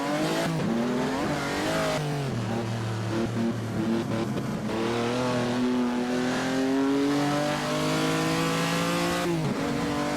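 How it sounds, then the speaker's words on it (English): Race cars in the Assetto Corsa simulation, set in the 1948 Gran Premio di Napoli, drone loudly and steadily, engines rising and falling in pitch through gear changes as they close in, with no break in the roar. "Okay, there are cars coming."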